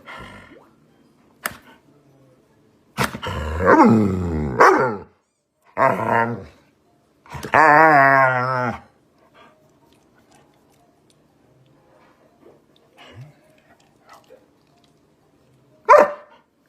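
A dog barks and yelps in a played video clip. There are several loud, drawn-out whining barks in a cluster near the start, then a sharp single bark after a quiet stretch, with faint noises in between.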